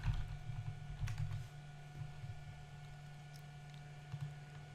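A password goes in on a computer keyboard, with a short run of quiet, close key taps at the start and then occasional single taps over a low electrical hum.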